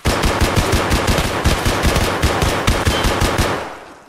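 Sustained automatic gunfire from a full magazine emptied at point-blank range in the shooter game Escape from Tarkov, rapid evenly spaced loud shots for about three and a half seconds before cutting off.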